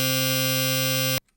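Steady buzzy chiptune tone from a C64-style combined waveform, a harsh noisy synth wave held loud and unchanging for about a second before cutting off abruptly.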